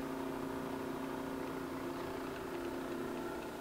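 A Southwest Industries TRAK DPM CNC vertical mill with a 3 HP spindle runs at a steady variable speed, a quiet, continuous mechanical hum with a constant tone and no talk.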